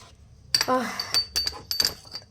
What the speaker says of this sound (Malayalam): അവൾ അപ്പോൾ തന്നെ അവിടെയുള്ള പാത്രങ്ങളെല്ലാം കഴുകി വെക്കുവാൻ തുടങ്ങി